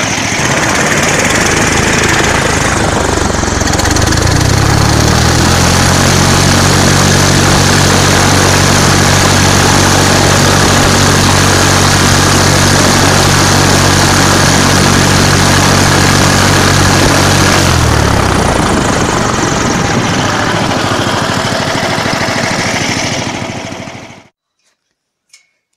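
A Lifan 20 hp aerosled engine with a muffler roars at full power close by, rising from idle to a loud sustained drone with propeller buzz, then winding down and cutting off near the end.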